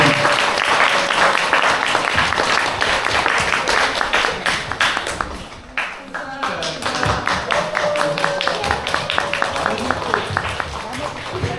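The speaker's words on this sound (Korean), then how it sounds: "큰 박수로 1등을 축하드리겠습니다" A crowd at a commemorative lecture event applauds to congratulate the first-place winner, with loud, sustained clapping from many hands filling the whole stretch and a voice briefly audible underneath.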